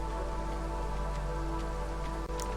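Steady rain falls in the city-builder game Against the Storm, a dense, even wash of rain sound with constant low hum, continuous and without talk.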